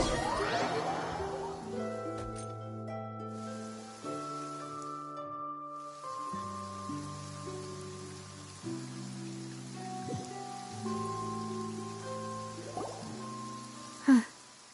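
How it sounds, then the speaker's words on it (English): Soft, steady rainfall in the Genshin Impact game world, a faint hiss beneath sustained melodic game music, ending with a brief louder knock. "It's been raining non-stop for a few days now."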